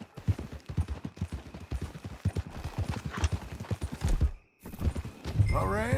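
Horse hooves clip-clopping in Red Dead Redemption 2, a quick steady run of close hoofbeats with a brief pause and a short whinny-like sound near the end.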